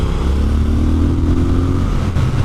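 A Triumph Scrambler 1200 XE motorcycle accelerates hard into a wheelie, its engine snarling loud and close with a rising, sustained roar throughout, no voices.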